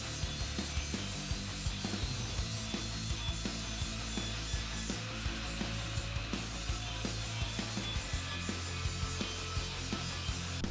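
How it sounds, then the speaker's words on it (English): A flap wheel on an angle grinder smooths outside welds on steel, producing a continuous harsh abrasive rasp with rhythmic ticking catches, fairly close and unbroken by speech. "Then I have a flap wheel on the grinder that I use just to smooth out all the outside welds."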